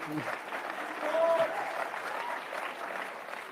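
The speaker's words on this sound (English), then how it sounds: "I think that we should clap for Elon Musk." A conference crowd at CPAC claps and cheers in a large hall, a moderately faint, continuous wash of applause with a slight swell near the middle.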